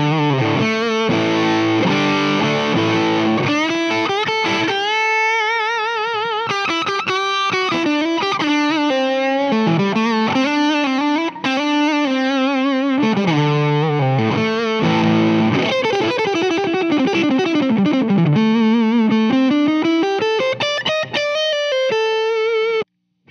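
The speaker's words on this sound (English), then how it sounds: "And we've got a Strymon Blue Sky in the loop, making me happy with a little reverb." Electric guitar played through a British-style amp, with a Strymon Blue Sky reverb in the effects loop, rings out in a continuous run of distorted, sustained melodic lines with a light reverb wash and no talking.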